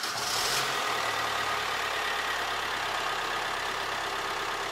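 A JTD diesel engine runs steadily at idle after a fuel filter replacement, a constant low hum and broadband rumble close to the microphone, with no speech.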